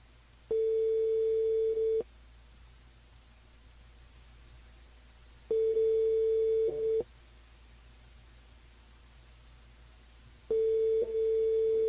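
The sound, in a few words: telephone ringing tone while calling the radio show's line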